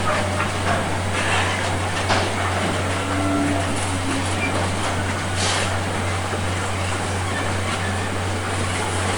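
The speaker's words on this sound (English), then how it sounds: "Again, we should see this train taking the Mildmay line." Train passing through Stratford station in London, a steady loud rail rumble with a constant low hum and faint rattling throughout.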